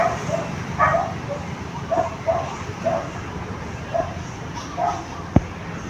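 A dog yips and whimpers in a series of short, high cries spread across the clip, fairly close, over a low background hum.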